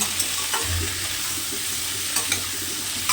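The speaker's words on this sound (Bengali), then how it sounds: "দেখি পেঁয়াজটা একটু ভেজে নেই" Onions fry in a pan for an Indian-style egg curry, a steady close sizzle broken by a few scraping stirs of the spatula, with no voices.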